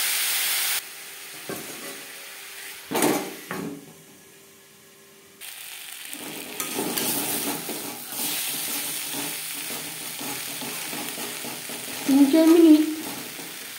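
Papaya pieces frying in a pan for a vegetarian Bengali papaya curry, with intermittent scraping and clattering of a spatula stirring, soft sizzling between strokes and a short voice near the end.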